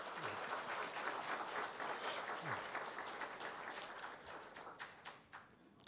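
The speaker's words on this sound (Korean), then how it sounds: "박수 한번 해주세요." A church congregation applauds during a worship service to welcome a member back after a hospital stay, steady clapping throughout that thins and fades toward the end.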